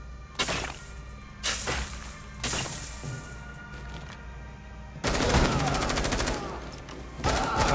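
Gunfire in Rainbow Six Siege, a team deathmatch round on the Bank map: loud repeated bursts of shots with short pauses, then a longer sustained volley of rapid automatic fire.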